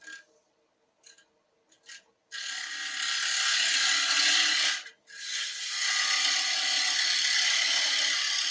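A spindle gouge cuts a small wood piece on a lathe, giving a loud, continuous hissing shear after a few short touches, broken by one brief pause before the cut resumes.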